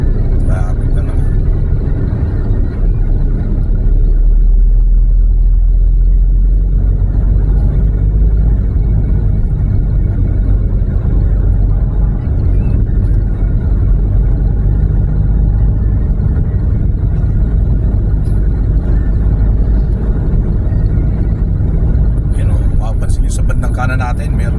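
Road traffic and engine rumble fill a car's cabin in slow congestion along the Star Tollway and SLEX between Malvar, Batangas and Calamba, Laguna: a constant loud low drone with someone talking over it.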